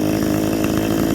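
A two-cycle chainsaw idles and runs loudly up close, a raspy, buzzing engine drone with a fast steady rattle and no pauses, alone without voices.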